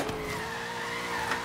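A brief tire squeal and skid as a police car drifts in Forza Horizon, the screech riding over the steady hum of the engine for about a second and a half.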